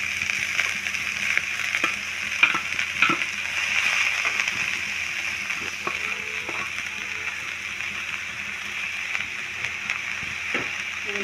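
Lai xaak greens fry with onions and garlic in a pan, giving an even, continuous sizzle with occasional soft stirring clatter and small splatters throughout.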